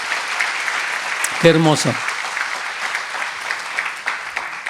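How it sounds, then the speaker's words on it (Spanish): A church congregation claps for the Lord during a Spanish-language sermon, a steady wash of applause running the whole time under a brief spoken voice. "Vamos a dar un aplauso al Señor por su gracia, hermanos amados."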